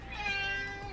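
A house cat gives a single short, clear meow close by, with no talking over it.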